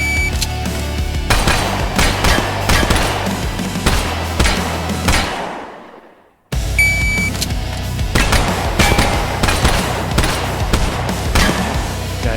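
Rapid gunfire from a VR tactical shooting game, loud and close, with dense bursts of shots running continuously, a brief drop to near silence in the middle, then heavy firing again.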